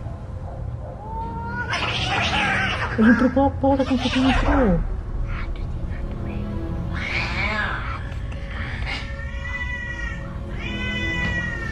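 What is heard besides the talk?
black cat meowing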